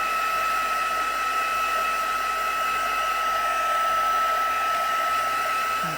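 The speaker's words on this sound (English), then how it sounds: "you keep the heat gun moving, because we don't want to overheat that embossing powder" A heat gun drying embossing powder on a card gives a steady, loud, continuous blowing whir that holds at an even level throughout, with no voices.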